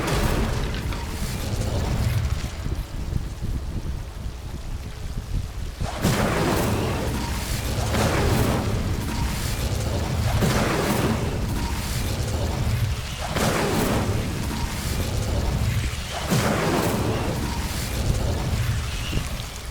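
In the video game Hogwarts Legacy, the Incendio fire spell is cast repeatedly in a dark area, producing a series of loud whooshing, booming bursts of flame over a continuous rumbling game soundscape, without speech.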